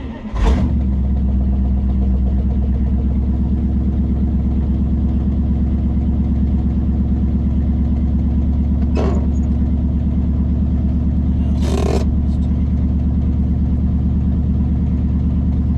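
The engine of a once-abandoned 1955 Buick Roadmaster runs steadily while driving to town, a loud continuous low drone that is close and sustained, with a couple of brief sharp knocks partway through.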